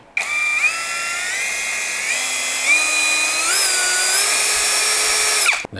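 A high-pitched Masaru cordless electric drill whines steadily for several seconds, its pitch stepping up slightly a few times before it stops sharply.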